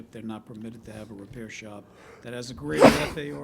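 A single sharp sneeze bursts out in a zoning board meeting room, loud and close, cutting into a man's ongoing speech.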